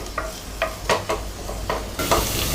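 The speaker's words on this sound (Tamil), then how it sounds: "வெங்காயம் நல்லா வதங்கிடுச்சு." Onions sautéing in oil for a prawn pulao, with a steady sizzle under repeated stirring scrapes in the pan, several distinct strokes over a couple of seconds, close and alone.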